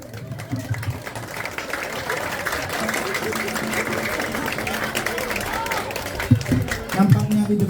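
Applause from an audience sheltering under a tent during rain, a steady, dense wash of clapping mixed with rain noise that holds for several seconds, with a speaking voice over it toward the end.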